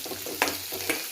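Curry leaves and fresh coriander being sautéed in a pan over a high flame, giving a steady close sizzle with a couple of brief stirring scrapes.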